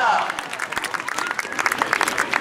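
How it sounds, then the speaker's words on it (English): Audience applause at a police dog demonstration, a dense wash of clapping hands from a crowd, steady and fairly loud throughout, with a voice over a loudspeaker partly heard beneath it. "let's have a big round of applause right now"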